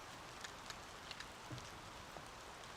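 Quiet, steady patter of light rain falling outdoors, with a few soft individual drops standing out against the faint hiss.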